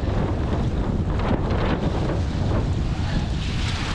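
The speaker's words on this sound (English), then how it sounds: "I feel a little bit of wind coming in." Strong wind roars and buffets across the microphone while foil windsurfing on open water, a steady broadband rush with gusty swells and no voices.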